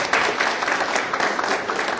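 An audience claps for a speaker at a corporate talk by Furukawa, with dense, even applause filling the room, steady and fairly close, and no voices.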